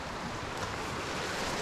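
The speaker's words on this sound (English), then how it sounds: "little creek through here" Small mountain creek near Frenchmans Cap in Tasmania, a faint, steady wash of flowing water with soft broadband hiss and no voices over it.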